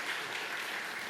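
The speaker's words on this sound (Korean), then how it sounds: "좀 그러니 박수를 좀 쳐주시고" A church congregation claps steadily during a Sunday family service, a dense, even wash of applause at moderate volume with no pauses.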